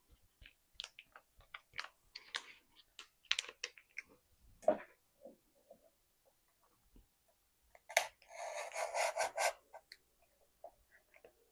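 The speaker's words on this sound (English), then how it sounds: "Then I'm just going to tape this to the back." Adhesive tape pulled and pressed onto the back of a gift, with short scattered crinkles and taps, then a louder sustained rasping tear near the end, fairly close and quiet with no talking.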